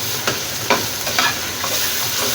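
Potatoes with salt, turmeric and red chili sizzle in a hot pan while being stirred, several sharp scraping strokes cutting through steady, loud frying hiss.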